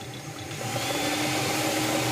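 Lottery draw machine for the Loto-Zabava game churning colourful numbered balls, a steady close whirring roar with rattling clatter that builds over the first half second and then holds constant, no voices.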